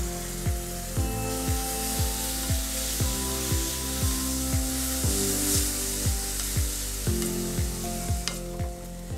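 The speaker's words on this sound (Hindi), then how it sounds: "अब मैं डालती हूँ इसके अंदर टमाटर।" Finely chopped tomatoes are stirred into a sizzling palak paneer masala. Steady frying crackle runs under regular scraping strokes of a spoon against the pan.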